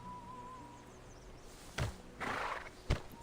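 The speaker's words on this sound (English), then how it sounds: "the horse lowers its head before giving Sergei a dejected snort" A horse in the video game Reverse: 1999 gives a soft blowing snort, followed by a louder breathy huff and a sharp thump, all fairly faint against a quiet background hum.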